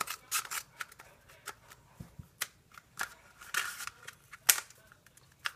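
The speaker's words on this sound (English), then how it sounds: "I'm going to cut it right here." Scissors snipping through material for a phone DIY craft, giving a run of sharp, close clicks and cuts in an irregular rhythm with short pauses between.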